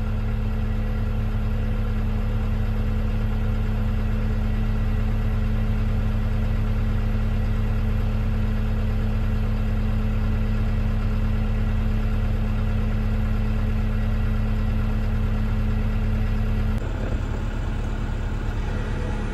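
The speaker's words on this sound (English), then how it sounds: "So I'm gonna let this dozer warm up," A bulldozer's diesel engine idles steadily while warming up, a constant low rumble with a faint whine that shifts slightly near the end.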